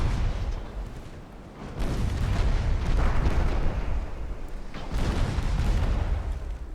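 Heavy shellfire from a naval warship battle game, high explosive rounds booming in dense, continuous rolling blasts with loud bursts near the two-second and five-second marks, sustained rumble throughout.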